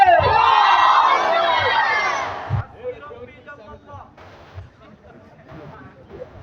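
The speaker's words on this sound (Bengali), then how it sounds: "সবাই একটা জোরে স্লোগান দেবেন, নারে তাকবীর।" Crowd at a live Islamic nasheed show roaring the slogan Nara-e-Takbir together, a loud sustained shout lasting a few seconds before dropping to a quieter murmur with a voice underneath.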